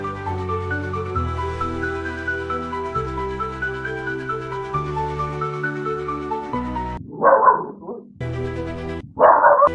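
Steady piano-like music plays, then a couple of sharp, loud dog barks break in near the end, separated by brief pauses.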